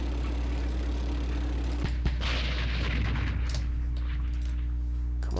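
Artillery ordnance explosions in the video game Campaign Series West Front: a few sharp booming bursts around the middle over a constant low rumble, with no talking.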